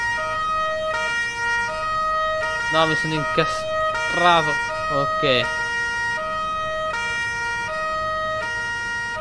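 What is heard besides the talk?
emergency vehicle sirens in Farming Simulator 19 video game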